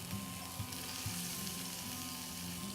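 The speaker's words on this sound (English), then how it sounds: "I'm just holding the fillet down on there, so I'm going to get some nice caramelization on that skin" A fish fillet fries skin-down in a hot pan, pressed flat as it caramelizes, giving a steady soft sizzle with faint stirring scrapes and no voices.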